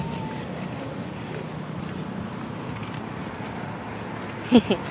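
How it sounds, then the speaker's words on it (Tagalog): Steady wind roars across the microphone under an overcast morning sky, a continuous broadband rush that holds level throughout, with a couple of short sharp bumps near the end. "Papalakas at papalakas po yung hangin."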